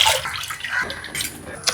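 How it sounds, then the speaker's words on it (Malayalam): Water from rinsing a grinder jar is poured into a pot of egg curry during village cooking in Kerala, a close splashing pour with gurgles that rises and falls across a couple of seconds, with no talk. "ജാറ് കഴുകിയ വെള്ളം ഒഴിക്കട്ടെ"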